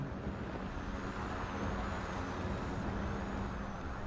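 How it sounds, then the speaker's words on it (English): A steady, heavy vehicle rumble fills the background throughout, a loud road noise with no talking. "hold up, there's a loud annoying car in the background."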